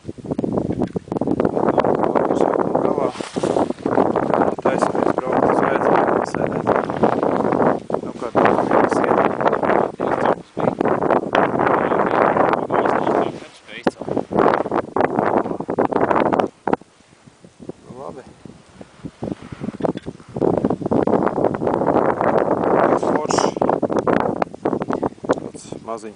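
Steady wind rushes and buffets the microphone outdoors at Lake Peipus, a broad roaring noise that dips briefly midway, with voices talking at times.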